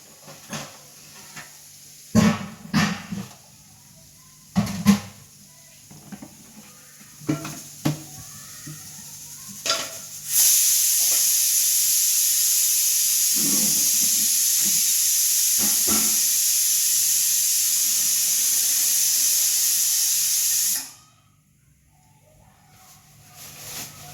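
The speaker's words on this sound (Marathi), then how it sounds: "आपण बेसनचा पोळा सुद्धा काढणार" A besan chickpea-flour pancake sizzles on a pan, a loud steady hiss holding for about ten seconds and then cutting off, preceded by scattered clinks of utensils and dishes in a home kitchen.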